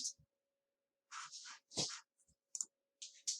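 Sharp mouse clicks at a computer, a few isolated taps with short bursts of soft desk noise between them, close and quiet with no talking.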